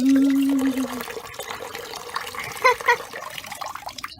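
Bath water sloshes and trickles around floating bath toys in a kids' bubble bath, with a couple of small splashes midway, close and fairly clear.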